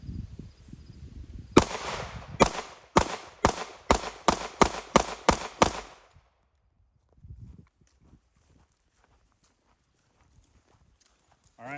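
A pistol fires Federal 124 grain HST ammunition in a rapid string of about nine sharp, loud shots over roughly four seconds, followed by near silence with faint rustling.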